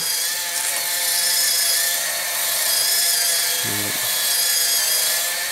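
A power tool trims a part on a large Bruder toy bulldozer, giving a steady, close, high-pitched grinding whine throughout, with a brief low thump just before the end.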